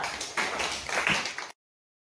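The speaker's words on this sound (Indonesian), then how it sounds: "kita berikan tepuk tangan dulu" A classroom of children clapping their hands together at a teacher's prompt, a dense burst of claps lasting about a second and a half, close and loud, then cutting off abruptly into silence.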